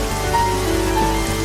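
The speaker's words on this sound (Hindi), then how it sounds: "बारिश और तेज हो जाती है।" Heavy rain pours down in a Hindi cartoon story, a dense steady hiss of drops drumming on surfaces, loud and continuous throughout with no voices.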